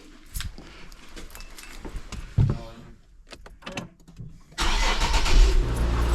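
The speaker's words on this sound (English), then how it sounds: "before I put that cover on, we'll just try to start it up." Keys jingle and a door thuds before a car engine is cranked and fires up, settling into a loud, steady mid-pitched run that fills the final seconds.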